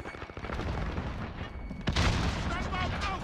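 A grenade goes off in Call of Duty Modern Warfare 2019, a sudden loud blast about halfway through that cuts into ongoing game noise and gunfire and then rumbles on, with voices talking underneath.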